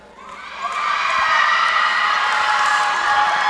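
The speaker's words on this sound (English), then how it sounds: "And the crowd roars after the announcement." A gymnasium crowd at a high school volleyball match between Northside and Central in Phenix City swells into loud, sustained cheering and shouting that builds within the first second and holds steady to the end, with no talk over it.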